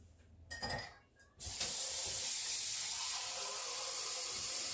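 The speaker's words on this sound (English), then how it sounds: "I'm going to rinse the cornstarch cup out" Tap water runs into a cup to rinse out cornstarch, starting with a few short splashes and knocks, then settling into a steady, close hiss of flowing water.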